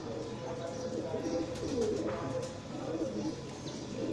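Forty-year-old Prince Kamgar breed pigeons coo softly and repeatedly, close at hand. Steady background hum and a voice run underneath.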